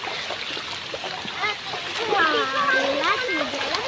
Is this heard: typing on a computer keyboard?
no